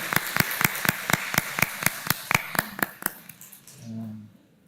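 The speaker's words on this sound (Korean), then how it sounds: "한번 우리 박수로 환영해 주시면 고맙겠습니다." A church congregation claps together to welcome visiting members, a steady rhythmic applause of evenly spaced sharp claps for about three seconds that fades out, with a brief low voice after it ends.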